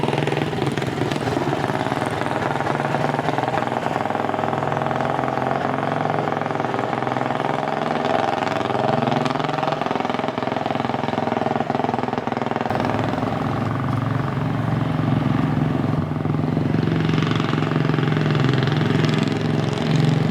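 A Studebaker car's engine hums steadily from inside the cabin while driving, a continuous mid-pitched drone with a slight shift in tone partway through and no talking.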